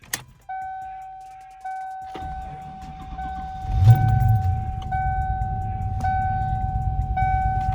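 Cold start of a stock Ford Mustang Foxbody: repeated warning-chime tones ring out, then the engine cranks, catches with a rising roar and settles into a steady, fairly quiet idle as the chime keeps sounding.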